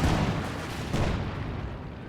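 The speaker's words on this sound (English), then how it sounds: "now pounding him with light artillery barrage" Light artillery barrage in the Company of Heroes 2 strategy game, a dense, continuous rumble of distant shell blasts and gunfire that stays loud and then tapers slightly.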